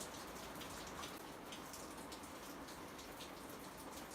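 Steady rain falls in the Ariège mountains near Izourt and Fourcat, a soft continuous patter with scattered droplet ticks, faint and even throughout.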